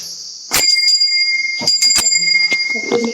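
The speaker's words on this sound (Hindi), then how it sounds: "घंटी बजाओ" A bright metal temple bell rings with a sustained ringing tone, struck several times, with short taps and voices nearby.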